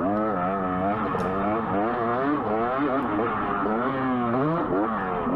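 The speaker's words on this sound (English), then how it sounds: "This is how every Christmas Eve should be spent, riding dirt bikes." Dirt bike engines rev and rise and fall in pitch as they ride a desert motocross track, a loud continuous buzzing drone with repeated throttle swells.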